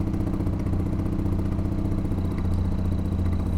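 A magnetless attraction motor drives a fan under pulse-width-modulated power, giving a steady, loud mechanical whir with a rapid rhythmic pulsing clatter that runs unbroken and close throughout.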